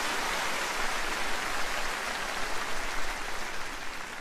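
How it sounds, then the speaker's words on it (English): A large concert audience at a show in São Paulo applauds before Nessun Dorma, a dense, rain-like roar of many hands clapping steadily at moderate volume without a break. "Yes, you can applaud for that"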